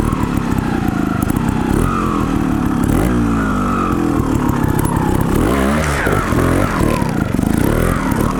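Gas Gas TXT 280 trials motorcycle ridden over obstacles and jumps, its engine loud and near, blipping and revving in bursts with uneven throttle and a rising, falling note.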